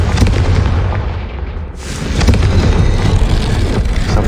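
A Confringo fire spell bursts in Hogwarts Legacy with a sharp, loud boom partway through, followed by a rolling rumble over continuous game ambience.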